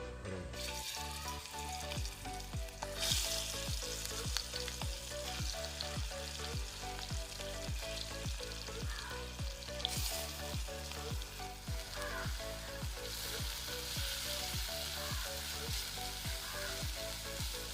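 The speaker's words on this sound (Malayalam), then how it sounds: "അപ്പോൾ നമ്മുടെ എണ്ണയൊക്കെ നല്ലോണം ചൂടായിട്ടുണ്ട്. അപ്പോൾ നമുക്കിതിലേക്ക് നമ്മുടെ കൊഞ്ച് വന്നിട്ട്" Shrimp for a Kerala-style shrimp roast hit hot oil in a pan, giving a loud, steady sizzle that runs throughout, with a few bursts of stirring and crackle.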